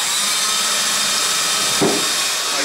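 A small drill bores pilot holes in a workshop on an electric motorcycle build, a steady loud whine with a brief bump midway and no talk.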